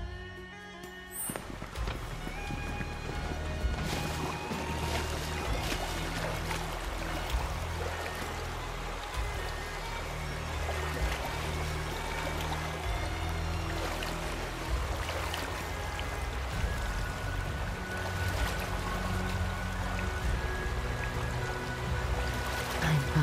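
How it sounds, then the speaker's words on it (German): Rushing waterfall in the video game Final Fantasy 7 Rebirth, a steady broadband wash of falling water that runs continuously under layered game music and ambient effects for the whole stretch. "Wasserfall."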